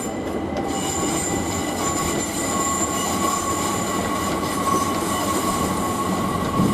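A train pulls into Stratford station with a steady rumble and sustained high wheel squeal, loud and continuous, with a faint tonal whine on top and no voices.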